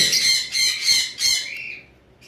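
Lovebirds and finches in a pet bird shop squawk loudly and close by in several harsh bursts, then trail off into softer calls.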